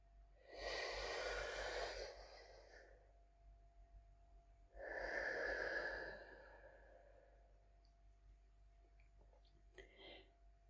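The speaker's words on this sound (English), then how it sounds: "already now we take our first breath" Two long, deep breaths during apnea breath-hold training, each a slow, airy rush lasting over a second, close to the mic with a quiet pause between them.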